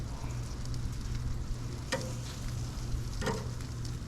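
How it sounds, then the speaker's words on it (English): Chicken drumettes frying and being flipped in hot oil, a steady close sizzle with a low hum beneath and two brief clattering turns partway through. "As soon as we get these drumettes flipped,"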